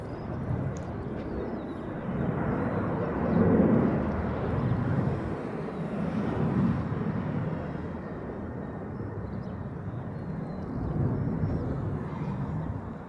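A Delta airliner departs Honolulu airport, a steady low jet roar heard from a distance that swells and fades in slow waves, with a faint wash of wind in the background and no talking.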